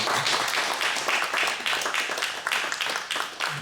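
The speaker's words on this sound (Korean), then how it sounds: "박수 부탁드리겠습니다" Applause from a small group at a fathers' school sharing session, a few seconds of moderately loud, uneven clapping with no talking over it.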